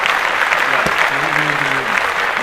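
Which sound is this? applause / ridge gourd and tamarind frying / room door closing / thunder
applause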